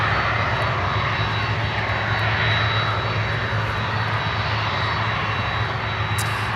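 A Lufthansa Boeing 747-8 in retro livery approaches, its jet engines giving a steady, heavy roar with a low tonal hum underneath, loud and continuous throughout with no talking.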